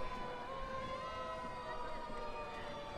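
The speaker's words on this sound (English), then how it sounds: "we can't compete with those sirens" Police car sirens wail steadily nearby at a children's holiday parade, their tones layered and overlapping in a continuous loud chorus with faint crowd noise underneath.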